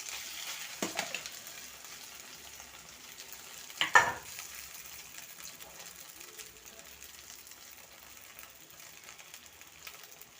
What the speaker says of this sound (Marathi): आणि छान आता फ्राय करून घ्या